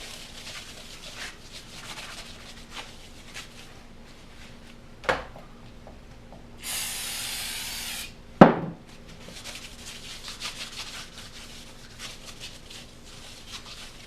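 Cleaner sprays onto clutch parts from a 1979 Chevy K20 square body with a 5.3 and SM465, one steady hiss lasting about a second and a half amid scattered clicks and a sharp metallic clank.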